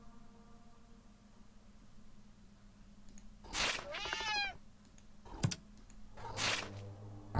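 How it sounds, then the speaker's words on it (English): A cat gives two or three short meows in the foreground, standing out against quiet background hum and a few clicks. "My damn cat."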